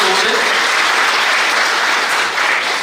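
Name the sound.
applause for the guest speaker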